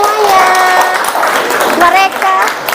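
A classroom group claps together, and the applause runs steadily under children's raised voices and excited chatter.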